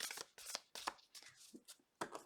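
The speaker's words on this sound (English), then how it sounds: "Last shuffle." Tarot cards shuffled by hand, a quiet series of soft riffling and flicking bursts in an uneven rhythm, heard close and alone.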